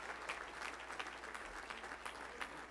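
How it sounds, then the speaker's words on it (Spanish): A large audience at a Christian convention in Anaheim claps in sustained applause, dense and even, heard quietly with a low steady hum beneath. "Démosle un gran aplauso al Señor."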